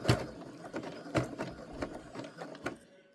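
A sewing machine stitching through rope, with a quiet, uneven series of mechanical clattering bursts, close by and alone, ending in silence.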